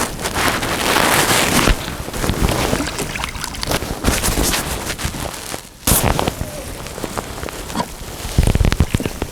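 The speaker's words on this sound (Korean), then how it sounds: "바람이 불기 시작했는데" Wind gusts across a small fishing pond, buffeting the microphone with a steady rough roar that swells and drops in several louder bursts, with no talking.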